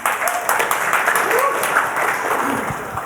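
Audience applause at a technical talk on mastering Ghidra, a steady wash of clapping filling the room at moderate loudness, with faint voices mixed in underneath.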